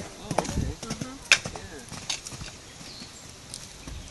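Horses' hooves clatter in quick uneven bursts, with a few louder thuds, while people talk in the background at a fall horse show.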